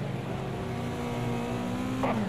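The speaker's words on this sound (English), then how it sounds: "Car on your left." A race car in the Project Cars 2 racing game drones steadily close by with a sustained engine tone that shifts in pitch near the end as it draws alongside, with no talk.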